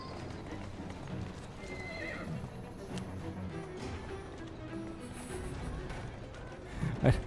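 A horse in the Assassin's Creed video game clip-clops with steady hoofbeats and gives a sharp whinny near the end, close and clear over a low game backdrop.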